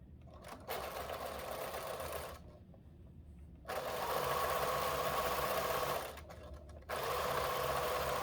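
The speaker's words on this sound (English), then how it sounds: "when I'm putting something like this together, I'll do a quick back stitch" Sewing machine back stitching while piecing a quilt, a steady close whirring run that pauses twice briefly and restarts, each burst of stitching loud and continuous.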